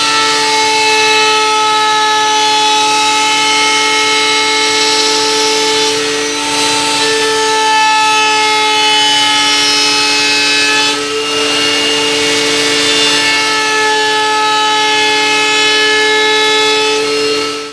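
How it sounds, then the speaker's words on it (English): A router fitted with a rounding bit runs steadily around the wooden edges of a radio cabinet, a loud continuous high-pitched whine with strong tonal harmonics, dipping slightly in pitch twice as the cutter bites into the wood. "Now I've got a rounding bit in there, so I'll just run around."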